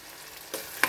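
Onion, ginger and garlic frying in a pan, a steady soft sizzle with two brief louder bursts as the mix is stirred.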